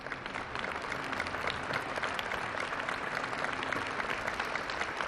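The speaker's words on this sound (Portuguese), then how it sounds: "E o aplauso de toda a Praça São Pedro a Leão XIV." Vast crowd in St Peter's Square applauding Pope Leo XIV at his inaugural Mass, a dense, continuous wash of clapping heard from a distance, steady and even with no speech over it.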